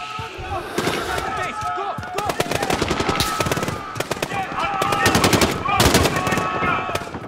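Rapid bursts of automatic gunfire from a Modern Warfare campaign firefight, loud and dense, with repeated volleys cracking across the whole stretch amid battle noise.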